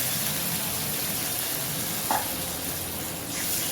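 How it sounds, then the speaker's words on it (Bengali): Half a cup of water poured into sizzling okra and potato curry in a pan: a steady close frying hiss continues, with a brief splash of liquid and a slight flare of sizzle. "কষানো হয়ে গেলে পরে হাফ কাপ জল আমি এখানে অল্প পরিমাণে জল দিয়ে দিলাম।"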